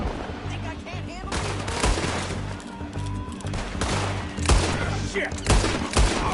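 Gunfire crackles in a Red Dead Redemption 2 shootout among rocks, repeated close shots and rapid volleys under brief shouted speech.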